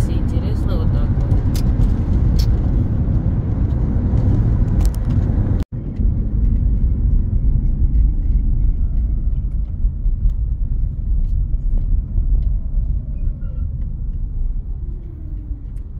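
A car cruises along a highway near exit 16 for Lemon Grove, its engine and tyres making a loud, steady road rumble throughout. There is a brief cut partway through, and a voice may talk faintly beneath the drone.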